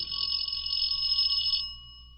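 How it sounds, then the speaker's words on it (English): A doorbell rings as a sound effect in a 1950s old-time radio detective drama, a steady electric bell that holds for about a second and a half and then cuts off. "No one was in a hurry to answer the doorbell."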